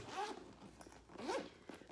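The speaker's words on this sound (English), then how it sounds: "in the main pocket, it zips fully like this" Zipper on the main pocket of a bag pulled closed, two quick rasping zips with a short pause between them, close and clear with no talking.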